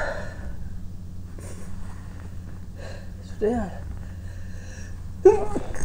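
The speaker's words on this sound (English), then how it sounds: "i try to stifle some of my sneezes" Two short, muffled sneezes, held back and stifled, break a quiet room with a low hum, spaced a couple of seconds apart.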